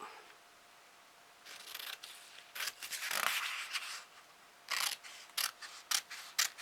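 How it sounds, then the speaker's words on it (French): Scissors cutting a piece of paper for a homemade Christmas card, a series of faint, crisp snips and short rasping cuts in a quiet room. "Je découpe mon morceau."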